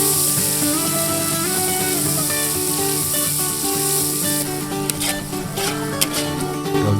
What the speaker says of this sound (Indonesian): Bumbu yang sudah halus dimasukkan ke dalam wajan.